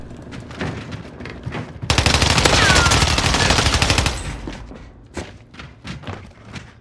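Heavy automatic gunfire in the Warzone video game, a dense sustained burst of rapid shots in the middle, with scattered single shots and thuds before and after, loud and close.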